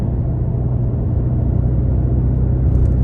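A 2022 Porsche Cayman T's turbo four-cylinder engine rumbles steadily and loudly, with a deep continuous drone from inside the cabin as the car accelerates.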